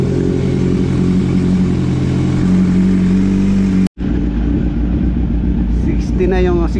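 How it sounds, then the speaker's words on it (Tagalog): A close motorcycle engine runs loud and steady, its pitch climbing briefly as it is revved. After a short cut it keeps idling while someone speaks over it. "So, kaya natin siyang i-rev."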